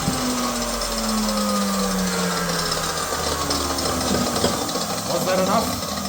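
A cutoff saw or grinder slices through an exhaust pipe section under the oil pan of a 1995 Toyota Celica, a steady loud whine with shifting pitch and rough grinding running throughout, up close.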